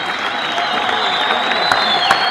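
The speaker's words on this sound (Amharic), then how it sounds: "ሞቅ ባለ ጭብጨባና እልልታ እናመሰግነው ዘንድ በትህትና ጠይቃለሁ" At the Gumma Award ceremony in Ethiopia, a crowd applauds loudly while high, sustained ululation rises above the clapping, with a few sharper claps near the end.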